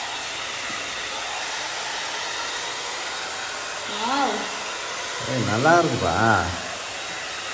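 A hair dryer runs on low heat, a steady close-up whoosh throughout, with a voice briefly talking over it near the end.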